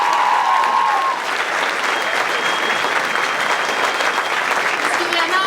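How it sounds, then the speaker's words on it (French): A school audience at Collège Héritage de Châteauguay applauds students' stage performance, a loud, steady wash of clapping that holds evenly throughout, with faint cheering or voices blended in. "les deux gangs, on peut les applaudir"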